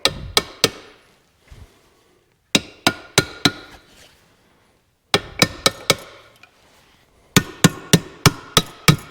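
Hammer blows tapping a part during a PTO rebuild on an IH 1086 tractor, sharp metallic strikes in quick bursts of three to six, with short pauses between groups.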